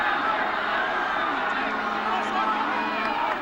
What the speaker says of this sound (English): Crowd actually screaming the USA on